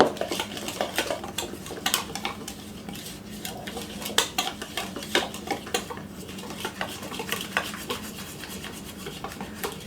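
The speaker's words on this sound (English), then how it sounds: "I'm going to use my spatula to make sure I have all the dry ingredients mixed from the bottom" A spatula scrapes and knocks against the bowl in uneven, rhythmic strokes while casserole batter for a Tex-Mex cowboy casserole is mixed, with close clattering and rubbing sounds and no talking.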